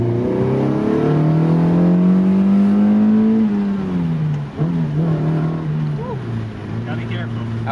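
A K24-swapped Mazda Miata pulls hard at full throttle through second and third gear, its engine note rising steadily, dipping at the shift, then climbing again close and loud, with voices talking over it.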